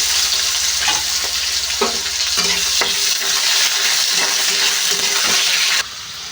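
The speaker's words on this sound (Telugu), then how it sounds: "ఇప్పుడు బంగాళదుంప ముక్కలను అయితే వేసుకుందాం." Potato pieces go into a pan of hot oil with curry leaves for a potato fry, sizzling steadily throughout with several stirring scrapes and clatters of pieces landing, loud and close with no talking.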